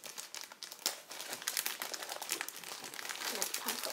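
Crinkly plastic wrapper of a Shopkins trading card pack being handled and torn open, a continuous close crackle and rustle with sharper crinkles throughout, quiet overall.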